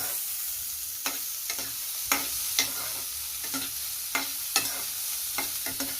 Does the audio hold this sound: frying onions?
yes